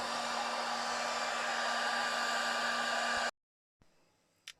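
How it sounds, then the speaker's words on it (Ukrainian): A server power supply, model FS7023, runs its cooling fan in a steady loud whirring hum with a constant tone, then stops abruptly, leaving near silence with a faint click. "оберти вентилятора у нас будуть залежно від температури"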